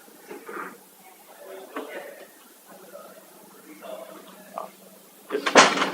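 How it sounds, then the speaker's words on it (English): A door is pulled shut in a county board meeting room. Murmured voices and room chatter lead up to a single loud, close thud near the end. "Close this door."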